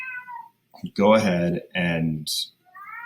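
A cat meows loudly several times, near and insistent, with someone talking between and over the cries.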